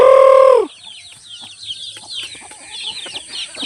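Chickens and chicks on a farm: a loud rooster crow opens, then a flock of chicks peeps continuously, with hens clucking softly nearby.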